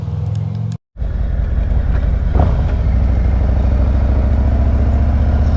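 A Harley-Davidson motorcycle pulls away from a standing start on a long straight road, its loud, close engine droning steadily after a brief cut near the start, with a rising note as it gains speed.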